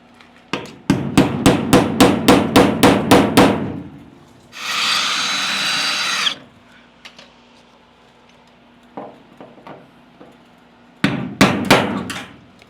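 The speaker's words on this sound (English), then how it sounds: "let me go ahead and hammer that and drill this one out" Rapid metallic hammer taps ring out on a pop rivet in an aluminum boat hull, then a power drill whirs for a couple of seconds drilling it out, followed by scattered clicks and more hammering.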